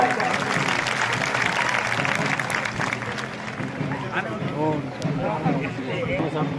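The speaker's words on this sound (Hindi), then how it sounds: "कृपया तालियों की गड़गड़ाहट से अभिनंदन करें।" Audience applause at a Rao Shekha Ji birth anniversary ceremony held at a resort in Udaipurwati, a steady dense clapping throughout with a public-address voice speaking over it and crowd babble.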